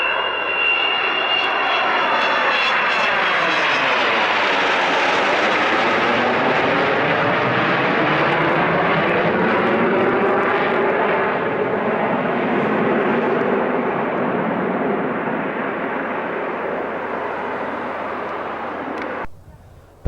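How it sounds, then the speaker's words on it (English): An Avro Vulcan bomber roars along the runway at East Midlands airport, a loud, sustained engine rumble that swells as it passes close by, then fades and cuts off near the end. "It's not very often you get the Vulcan flying down the runway"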